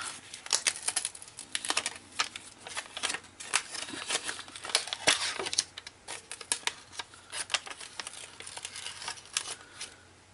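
Adhesive backing peeled off paper craft pieces for a rose-themed mini album in a fancy box, giving dry crinkly tearing and rustling with scattered crisp ticks, close and fairly quiet, no voices.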